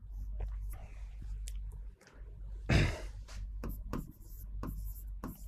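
Pen strokes scratch across a board or paper during a history lecture, coming in short bursts with gaps between them, quiet and close, with one louder rubbing stroke partway through.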